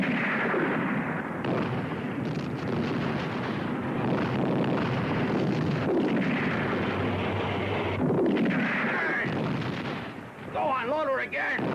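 Tank guns and artillery fire in a World War II battle at El Alamein: dense, rumbling booms and blasts roll on continuously, with shouted voices breaking through near the end.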